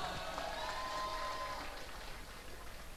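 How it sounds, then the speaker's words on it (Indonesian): Applause from the crowd at a 2017 high school graduation and farewell ceremony in Pekalongan, fairly faint and diffuse, with a sustained tone running through the first half before the clapping thins out. "Sekali lagi tepuk tangan untuk Yusuf Maulana."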